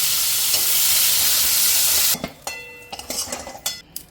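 Dry red chillies and onion frying in a pan, a loud dense sizzle for two seconds, then quieter crackling broken by metal spoon scrapes and clanks against the pan.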